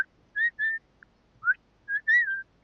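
A bird at Cincinnati Zoo whistles a series of clear, close tonal notes: two short whistles, a brief chirp, a rising note, then two longer whistles, with quiet gaps between them.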